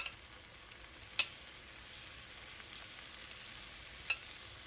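Shrimp cook on a grill with a continuous low hiss of sizzling, broken by two sharp little clicks or ticks partway through, fairly quiet and steady with no voices.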